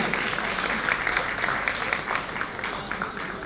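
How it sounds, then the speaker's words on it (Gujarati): An audience at a teachers' music-group honouring ceremony applauds a guest singer, a dense steady clatter of many hands clapping at once that carries through the whole moment. "જોરદાર તાળીઓથી વધાવીએ"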